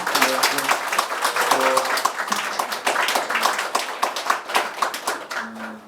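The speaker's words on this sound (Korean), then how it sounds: "큰 박수 부탁드립니다." Audience at a lecture event bursting into sustained applause, dense steady clapping from many hands throughout, fairly loud and close, with some voices mixed in and fading at the end.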